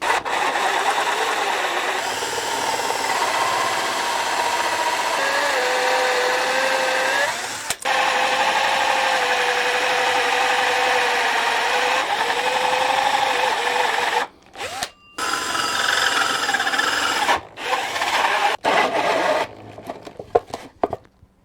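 A loud, steady whine of a hand drill driving a 2.5-inch hole saw, grinding continuously for about fourteen seconds before stopping and restarting in short bursts.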